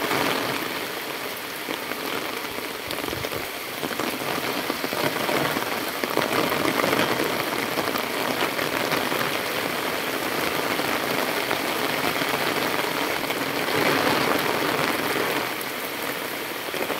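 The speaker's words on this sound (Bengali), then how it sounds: "প্রচুর বৃষ্টি হচ্ছে।" Heavy rain pours down on a rural village yard on a winter morning, a loud, dense, unbroken hiss of drops hitting the ground and surfaces that lasts throughout.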